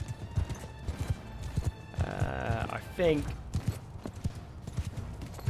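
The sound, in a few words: horse hooves in the video game Mount & Blade 2 Bannerlord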